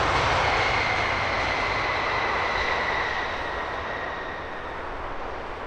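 An airliner in oneworld livery at Heathrow Airport, its jet engine roar loud and continuous, slowly fading as the aircraft moves away.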